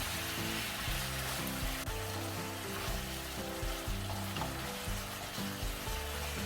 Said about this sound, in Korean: 고운 고춧가루를 넣어서 양념들이 겉돌지 않게 골고루 잘 뒤적뒤적 볶아줍니다